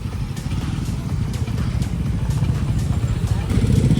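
Dozens of motorcycles on a World Motorcycle Day helmet awareness group ride, engines idling in a steady low rumble close by, with the crowd talking throughout.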